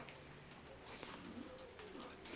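Pigeons in an upper loft with newly paired birds and squabs coo softly at low level, with faint rustling and a few chirps throughout.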